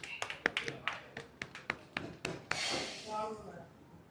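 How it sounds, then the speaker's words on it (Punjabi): A round of sharp, scattered hand claps, about a dozen fairly close, with voices cheering and talking as the clapping ends. "ਆਪਦੇ ਆਪ ਦੇ ਲਈ ਤਾੜੀਆਂ ਮਾਰੋ"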